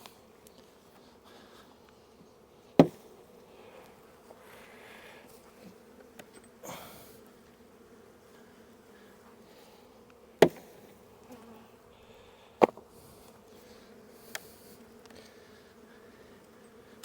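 Honey bees hum in a low, steady drone around a hive, close by, broken by a few sharp knocks and clicks from handling the hive, and no speech.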